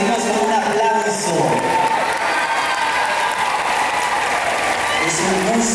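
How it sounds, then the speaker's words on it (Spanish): Audience applause at a medal and awards ceremony in Caracas, welcoming the Mexican ambassador; steady clapping fills the whole stretch at a fairly loud level, with some crowd murmur and voices mixed in. "El embajador de México, lo recibimos con un aplauso."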